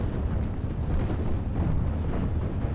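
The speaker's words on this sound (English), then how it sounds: "So enemy off-map, or friendly off-map artillery coming in." Off-map artillery shells land in Steel Division: Normandy 44, a continuous low rumble of distant explosions and booms rolling together in a heavy, muffled barrage.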